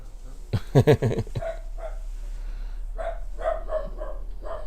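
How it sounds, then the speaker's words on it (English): Grandson's dog barking indoors, a quick burst of several loud barks near the start followed by quieter yips and whimpers under a steady low hum. "that mean thing in there that's barking, that's my grandson's dog"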